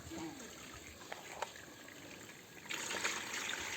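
Water trickles and pours at a modest level while butter is made in a churn machine at a village home, with a brief stronger gush near the end and faint background noise.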